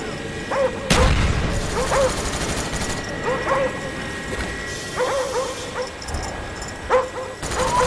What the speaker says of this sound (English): Friendly dogs inbound.